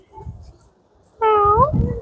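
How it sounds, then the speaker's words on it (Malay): A small tortoiseshell kitten gives one clear, loud, rising-and-falling meow up close, after a softer brief cry and light rustling. "Adakah ni yang dipanggil sebagai tortoise cat?"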